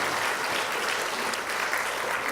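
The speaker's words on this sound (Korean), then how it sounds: "함께 참여한 그들 위해서 우리 격려에 박수하겠습니다" A church congregation applauding, with a dense, steady burst of clapping that fills the room from start to finish.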